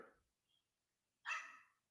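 A dog barks outside in the background, picked up through a monitor out front: one brief, moderately loud burst of barking after faint earlier sounds, distant and otherwise quiet.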